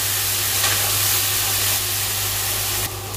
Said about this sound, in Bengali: এবারে এই মশলাটাকে ভালো করে কষিয়ে নিচ্ছি।